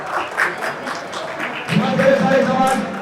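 Audience applause at a university bodybuilding championship, a broad steady wash of clapping that swells louder in the second half, with an announcer's voice speaking over it.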